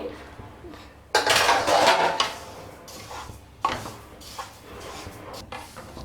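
Sesame seeds roast in a pan for laddu while a spatula stirs them, with two loud scraping bursts and metallic clinks over a softer rustling scrape, close and without talk.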